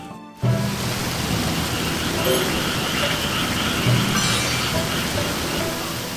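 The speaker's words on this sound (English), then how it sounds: "because it's raining, because it's going to fill up overnight" Steady, heavy rain in the farming video game Sakuna: Of Rice and Ruin, a continuous close hiss that starts abruptly and holds evenly, with faint game tones and a brief voice in the background.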